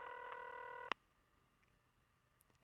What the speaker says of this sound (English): calls his cell phone